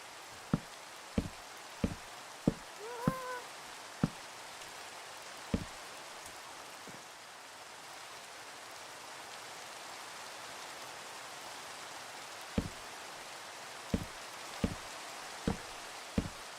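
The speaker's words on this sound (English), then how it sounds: "Oh, it's raining." Steady rain falls over a medieval village in a sandbox building game, a continuous soft hiss with a scattering of sharp knocks and taps from block placing, no voices over it.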